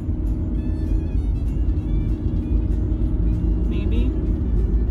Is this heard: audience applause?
no